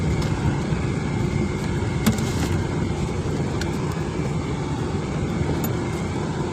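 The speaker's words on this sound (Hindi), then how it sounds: "हम गाड़ी में सफ़र कर रहे हैं।" Steady interior ride noise from a car travelling through a rural area, a dense low rumble of engine and road that holds constant throughout, with faint rattles and bumps over it and no talk.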